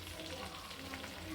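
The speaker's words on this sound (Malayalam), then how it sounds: "എണ്ണ നല്ല രീതിയിൽ തിളച്ച് വന്നപ്പോഴത്തേക്കും ഞാൻ മീൻ ഫ്രൈ ചെയ്യാനുള്ളത് നമുക്കിനി ഇതിനെ ഫ്രൈ ആക്കിയെടുക്കാം" Fish frying in hot oil in a home kitchen, a soft continuous sizzle with faint bubbling that stays steady and fairly quiet throughout.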